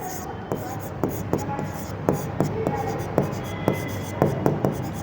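A pen writing on paper during an accounting lesson, producing steady, close scratchy strokes with regular taps, fairly loud and continuous.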